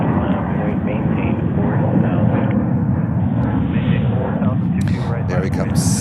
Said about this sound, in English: So 321 Neo is currently on the runway heading to Orlando